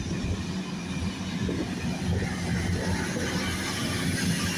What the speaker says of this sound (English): on a Great Western Railway service